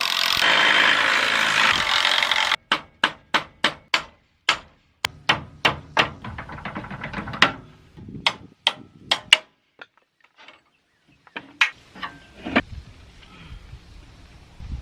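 A ratchet clicks in rapid bursts of sharp ticks, pausing and resuming, with a brief noisy whir at the start.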